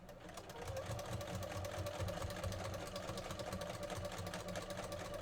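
A sewing machine stitches terry cloth fabric for a wrist towel, its steady mechanical whirring and rapid needle chatter running continuously at a moderate, close level.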